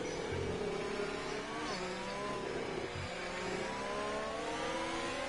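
Formula One cars from the racing game F1 2020 at the China Grand Prix scream past with high-pitched engines, the revs sliding up and down through gear changes as several cars run close together in a steady, loud roar.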